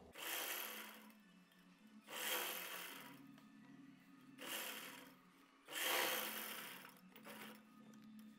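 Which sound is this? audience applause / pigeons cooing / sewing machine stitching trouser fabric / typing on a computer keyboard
sewing machine stitching trouser fabric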